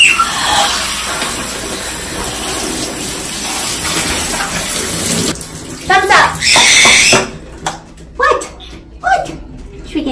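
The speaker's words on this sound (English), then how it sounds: "Having a shower." Shower water runs steadily and loudly at close range, a broad hiss for the first half before breaking into intermittent splashes, with a caique parrot present in the bathroom.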